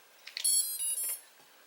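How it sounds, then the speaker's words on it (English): A short run of high-pitched electronic beeps from drone motor speed controllers as the battery is connected, a few quick chirps followed by two sustained tones, close and clear with no talking. "Should hear some little beeps"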